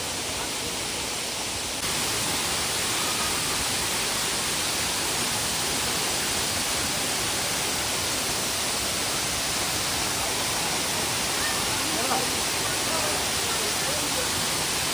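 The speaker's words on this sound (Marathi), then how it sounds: "हा धबधबा हल्लीच प्रसिद्धीच्या झोतामध्ये आलेला आहे" Ghonsari waterfall near Ponda roars as a constant, dense rush of falling water, steady and loud throughout with no pauses.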